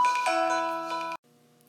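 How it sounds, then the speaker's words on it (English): A short electronic alarm chime plays a bright, sustained tonal melody for about a second, then cuts off abruptly, leaving a quieter lingering tone. "that was my alarm"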